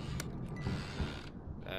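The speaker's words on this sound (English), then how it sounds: "That's the door opening." A wooden door in a video game creaks slowly open, a drawn-out groaning squeak with a few mechanical clicks, fairly close and loud.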